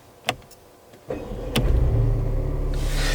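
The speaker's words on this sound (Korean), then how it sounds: "파킹 버튼 누르고 시동 끄고, 시동 소리 다시 한번 들어볼게요." A Mercedes-Benz GLA 220 fires up after a few clicks and a faint mechanical whir, its engine catching with a sudden rumble that settles into a steady, close idle hum.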